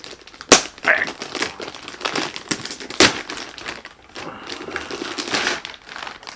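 Plastic bag crinkling and rustling around a packaged two-bay hard drive enclosure, with sharp crackles and crisp handling noises close up, no talking.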